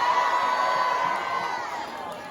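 A concert crowd cheers and shouts in a big venue, a dense steady roar that is loud at first and eases slightly toward the end, with no clear voice over it.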